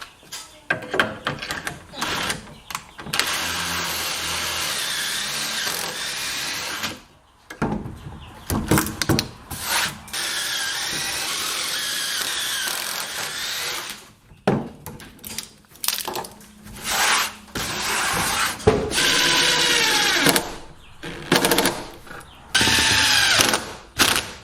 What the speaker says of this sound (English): So I'll bring these out flush and join them with screws, join this on the end